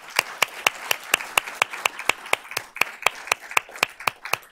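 A small group claps for a scholarship winner at a school board of trustees meeting, with sharp distinct claps in an uneven rhythm, fairly close and clear, without talk.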